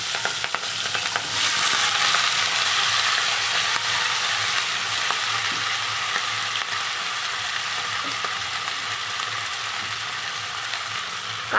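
Chopped onion stalks, potato and flat beans with whole cumin frying in hot oil, a loud continuous sizzle close by with occasional stirring clinks, no talking.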